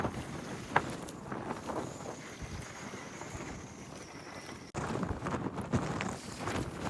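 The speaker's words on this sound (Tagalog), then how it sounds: "medyo malakas po ang hangin ngayon" Strong wind buffets and roars across an open space, gusting unevenly and rumbling against the microphone, with no voices.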